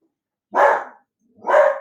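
A dog barks twice, sharp and close, with a short silent gap between the barks.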